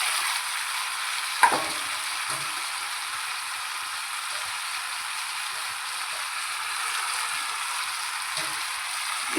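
Onions and spice paste sizzling steadily in a pan, a continuous bright frying hiss with a stir or clink near the start and faint utensil knocks, close and without talking.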